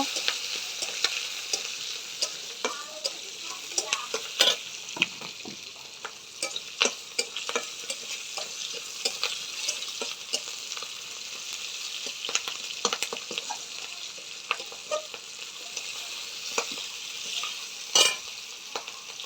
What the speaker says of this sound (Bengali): রসুনগুলো দিয়ে দেবো কাঁচা লঙ্কা চিরা, ভালো করে ভাজি করে নেব